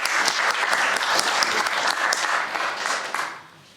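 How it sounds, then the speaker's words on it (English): Dense, lively applause from a film festival audience fills the space, holding strong before thinning and fading out near the end. "So let's give a warm welcome and applause."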